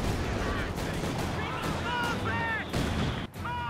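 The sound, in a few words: anti-tank grenades exploding in video game Company of Heroes 2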